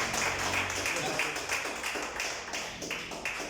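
Congregation clapping during an evening church service, a dense, steady burst of many hands close by with a few sharper individual claps standing out and a voice speaking over it.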